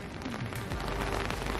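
Heavy rain pours down at night in Nashville near a bridge lit purple, a dense, steady patter and hiss that fills the whole stretch with no talking.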